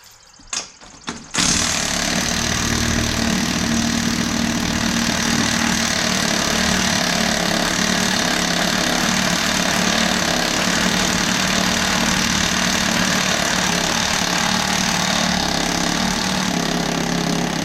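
A power tool running at its maximum speed setting to remove a stubborn lug nut in a shop: a loud, steady, continuous whirring roar that starts abruptly after a few brief knocks and keeps going without a break.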